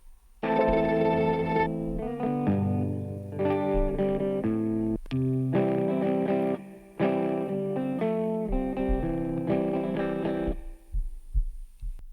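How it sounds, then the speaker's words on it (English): Guitar track from an AI-assisted song, a run of sustained, processed chords and notes in phrases of a second or two with brief gaps, loud and close with no voices over it. "And here's my guitar track."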